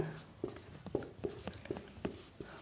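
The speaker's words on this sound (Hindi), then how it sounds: "ये मैं लिख देता हूँ यहाँ पे" Marker or chalk writing on a board during a geography lesson, a close series of short scratchy strokes at an uneven rhythm, with no talking.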